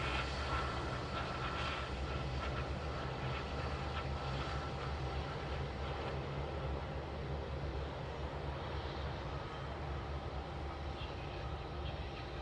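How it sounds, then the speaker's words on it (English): A China Eastern airliner taxis toward the end of the runway at Sydney Airport, its engines giving a steady, fairly distant jet roar and rumble that holds evenly throughout, with no voices. "China Eastern has made it all the way down to the end of the runway"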